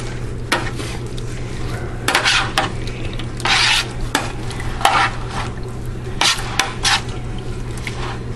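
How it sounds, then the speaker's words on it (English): Spoon stirring a lemon juice sauce for oven-baked shrimp scampi, close scraping and clinking against the pot in irregular strokes over a low sizzle, with no talking. "Give this a good stir."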